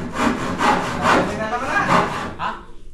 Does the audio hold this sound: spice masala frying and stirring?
no